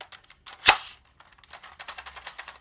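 A Dart Zone magazine pushed into an X-Shot Longshot toy blaster, heard as one loud, sharp plastic snap up close, with small clicks and rattles of handling before and after.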